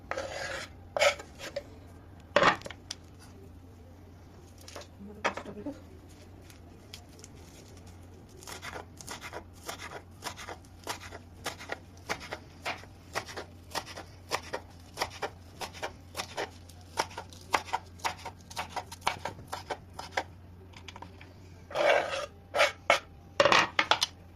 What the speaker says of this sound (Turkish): sarımsaklarımızı rendeliyoruz.